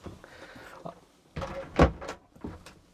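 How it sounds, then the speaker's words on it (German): The door of a Biebertec BC Viking 4000 pickup camper cabin is pulled shut with a muffled thunk amid soft shuffling and handling noises, quiet and close inside the small cabin. "darf ich einmal die Tür zumachen?"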